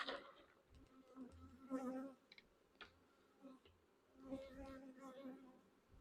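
Honeybees buzz faintly around Pennsylvania nuc hives in midsummer, a low droning hum rising and falling in swells, with intermittent clicks and handling noises nearby.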